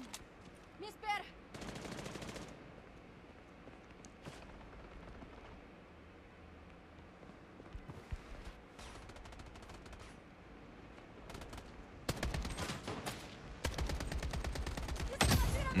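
Gunfire in a shooter video game with a sniper, scattered single shots early on, then dense bursts of rapid automatic fire toward the end, heard fairly close over a low background.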